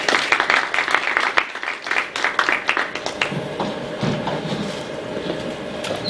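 Applause greets a panel discussion at a regulatory reform forum on startup innovation, a dense burst of many hands clapping that fades into scattered claps and quieter room noise.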